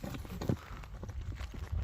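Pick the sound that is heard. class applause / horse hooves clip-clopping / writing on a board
horse hooves clip-clopping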